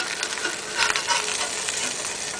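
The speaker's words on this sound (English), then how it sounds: "Let's turn these hamburgers over" Hamburgers sizzle and crackle on a Deadwood wood stove, a steady close hiss of frying fat with small pops, running on its own without talk.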